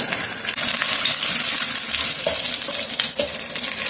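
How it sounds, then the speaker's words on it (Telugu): Onions frying in hot oil with cumin, mustard and fenugreek seeds, a dense continuous sizzle with occasional stirring scrapes, close up and loud. "ఇందులో ఆనియన్స్ వేసుకోవాలి. ఆనియన్స్ మంచిగా ఫ్రై అవ్వాలి."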